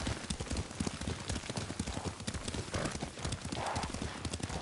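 Horse hooves clip-clop in quick, steady succession as a mount is ridden through the Ghost of Tsushima game world, a continuous close rhythm of hoofbeats with a brief whinny-like tone mixed in.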